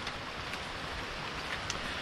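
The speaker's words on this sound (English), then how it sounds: "I hope this rain will stop" Rain falling on a trail lined with old tires leading down to Buana waterfall in Bali, a faint, steady hiss with no other clear sounds.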